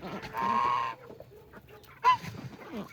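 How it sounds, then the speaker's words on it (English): A rooster on a homestead crows loudly once, a long strained call, then a second short call follows after a pause among softer farmyard clucking. "Rooster says good morning."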